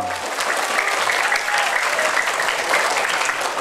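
A crowd of students claps steadily and continuously at a Maulid celebration, a dense, even burst of applause that holds at the same level throughout.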